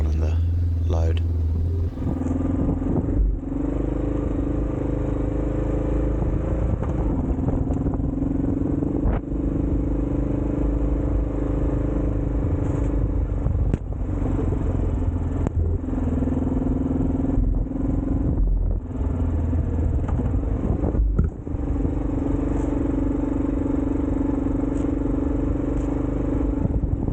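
A 40-year-old loaded Honda motorcycle with a steady, loud engine drone climbs steep remote outback tracks, rumbling close throughout while a person speaks over it.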